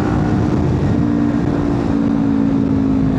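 Steady, loud engine drone from a Kawasaki Ninja 400 sport motorcycle, with a strong low hum, running continuously at close range without any talking.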